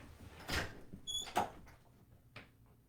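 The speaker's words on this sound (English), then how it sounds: "Oh, there's the door again." A door opens and closes for a dog indoors, making a few soft knocks and thuds and a brief high squeak, faint and intermittent.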